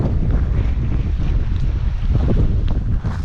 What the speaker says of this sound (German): Der Wind wird wahrscheinlich voll übel sein